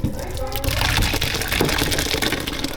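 Tap water gushes steadily into a kitchen sink as it is rinsed clean, a loud continuous splashing rush that runs the whole time, with a faint voice briefly underneath.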